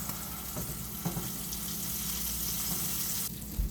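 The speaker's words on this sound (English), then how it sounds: "Trying to cook some of the butter out." A burger fries in a pan of butter, giving a soft, steady sizzle with a few light clinks and scrapes, and no talking.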